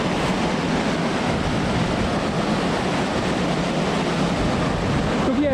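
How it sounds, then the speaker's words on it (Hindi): Rushing waterfall on a mountain trek near Lari village in the Spiti Valley, heard as a loud, steady broadband roar of falling water that carries on unbroken and alone throughout. "ज़बरदस्त वाटरफॉल है भाई।"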